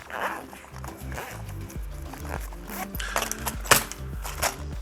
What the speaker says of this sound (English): And then zip around it.